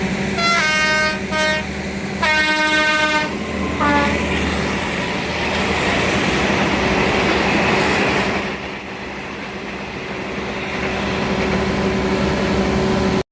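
A special train in Thailand passes with its power car generator roaring loudly, preceded by several long horn blasts, then a sustained heavy rumble of engine and wheels that fades briefly and returns.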